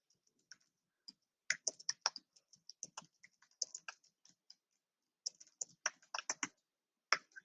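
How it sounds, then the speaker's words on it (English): Quick bursts of typing on a computer keyboard, close and crisp, with uneven clusters of keystrokes separated by short pauses, in an otherwise quiet room. "Sometimes I type faster than I think."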